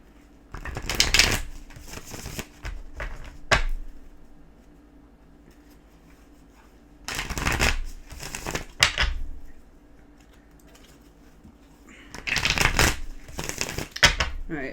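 Tarot cards being shuffled by hand in three separate bursts of crisp riffling and flapping, close to the listener, with quiet pauses between them.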